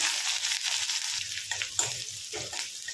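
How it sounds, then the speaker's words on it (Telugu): Chopped onion with cumin seeds and two dried red chillies fries gently in oil for mango dal, a soft close sizzle with a few light stirring scrapes and small crackles. "ఈ ఉల్లిపాయలు లైట్గా ఫ్రై కానివ్వండి"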